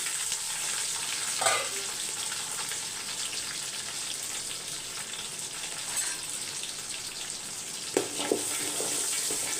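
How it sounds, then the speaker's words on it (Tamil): Mustard seeds fry and splutter in hot oil for a Tamil dried-fish curry with drumstick leaves, a steady close sizzle broken by a few sharper pops and crackles, with no talking. "கடுகு வந்து நல்லா பொரியணும்"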